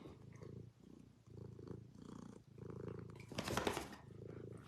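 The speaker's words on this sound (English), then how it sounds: "here, you purr too" A cat purrs close up in a steady rhythmic rumble, each breath cycle audible as a soft pulsing buzz, with a brief louder rustle or breathy burst near the end; no one speaks.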